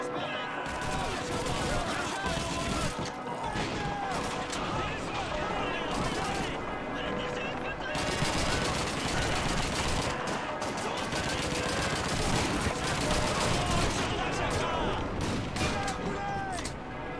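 Sustained gunfire in Call of Duty 2 during the British campaign battle for Caen, with dense rifle and machine-gun bursts and heavy blasts continuing throughout, loud and close, with shouted voices over the shooting.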